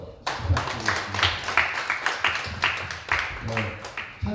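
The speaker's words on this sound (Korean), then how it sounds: "다시 한번 박수 한번 부탁드리겠습니다." A church congregation applauds during a Sunday afternoon teachers' dedication service, a steady run of claps with sharp individual hand strikes audible, moderately close, and a little low talk mixed in.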